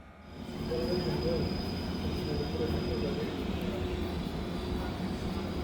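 Inside a Mugunghwa passenger train, a steady low rumble and rolling hum hold on continuously after a quick fade-in, with a faint high whine running over the top.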